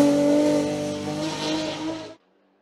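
A BMW M3 E36 rally car at speed, its engine droning loud and steady with a high whine for about two seconds before cutting off abruptly into silence.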